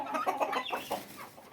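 Tiger breed hens, heavy birds of four to six kilograms on a poultry farm, clucking close by in a steady run of short, overlapping calls with no talk.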